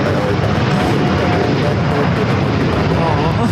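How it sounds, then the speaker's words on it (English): A LATAM Airlines Boeing 787-8 Dreamliner takes off at LAX with a loud, steady broadband engine roar that continues throughout, and people talk underneath it. "This is Latam Airlines 603 taking off to Santiago, Chile on the 787-8 Dreamliner"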